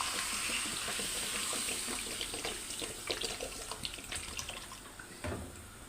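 Water pours into a potato curry cooked with spice paste, a close splashing, gurgling stream that rises and then tapers off over several seconds.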